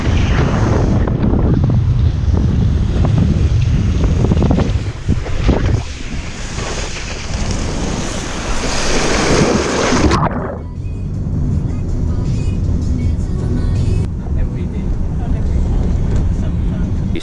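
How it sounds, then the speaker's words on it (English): Strong head-on wind buffets the microphone on a boat ride off Phuket, a loud constant roar mixed with rushing water and engine rumble, while someone talks over it. "The wind is coming, head on the other way."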